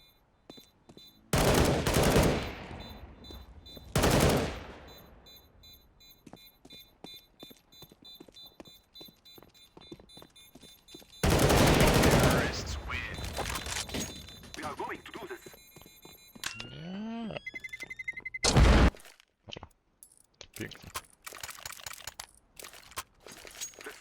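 Bursts of rapid gunfire from the video game CS:GO erupt in a few loud volleys, separated by quieter stretches of clicks and game sounds.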